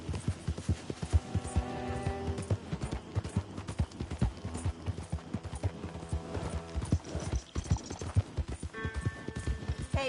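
A horse's hooves clip-clop in Red Dead Redemption 2, a steady rhythmic stream of close, sharp hoof strikes at a trotting pace under background music, with a faint whinny-like tone near the end.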